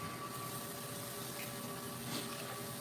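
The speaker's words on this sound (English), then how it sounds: "scrub that real good and then go ahead and rinse that out" Tap water running steadily into a pan being rinsed after scrubbing off onion residue, a continuous faint rushing hiss with no breaks and no voices.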